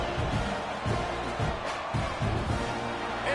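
Football stadium crowd murmuring and roaring steadily just after a kickoff and touchback, a dense continuous wash of many distant voices with slight swells, no single clear speaker.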